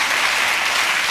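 Steady applause from a TV talk-show studio audience, a dense wash of clapping that holds evenly throughout the short stretch.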